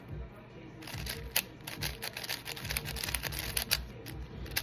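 A MoYu speed cube being turned, quick bursts of soft plastic clicks and clacks in rapid runs, close and fairly quiet.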